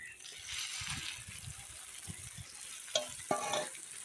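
Chicken goes into a pan of frying spice paste, giving a soft, close sizzle with light stirring and a couple of sharp utensil knocks toward the end.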